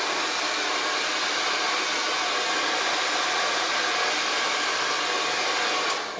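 A hair dryer blows steadily at close range, a continuous loud airy whoosh that holds level throughout and cuts off at the very end.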